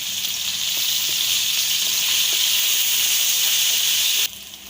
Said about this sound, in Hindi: तो अभी मसाला हमारा फ्राई हो चुका है, अदरक लहसुन का पेस्ट सब्ज़ मिर्च और प्याज